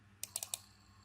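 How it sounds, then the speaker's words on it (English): A computer mouse on a Windows 10 PC clicks four times in quick succession, crisp and close, over a quiet background hum with no talking. "Double click on the option"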